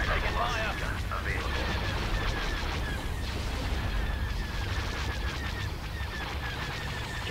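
Battle gunfire in the Star Wars Empire at War Clone Wars mod, a continuous rattle of shots and blasts over a rumbling low background, steady and dense throughout.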